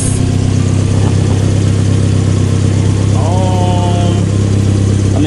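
A turbocharged Mazda Miata engine idles loud and close with a steady, low rumbling drone throughout, while someone talks briefly in the middle.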